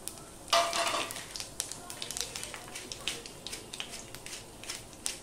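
Dry red chillies, panch phoron and bay leaves fry in a generous amount of hot mustard oil in a kadai, crackling and sizzling in scattered sharp pops near and fairly soft, with talk over the frying.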